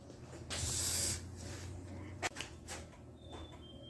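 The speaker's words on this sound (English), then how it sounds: "go around with a can of spray lube and do all our hinges and latches and locks" A short hissing burst of spray lubricant on hinges, followed by faint clicks and a couple of quieter spritzes, fairly close and without talking.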